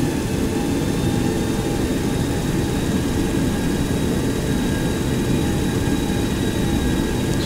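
Aircraft engine powering up as the brake is released on a taxiway heading for runway 15, a steady loud broadband roar with faint whining tones running throughout and no talk.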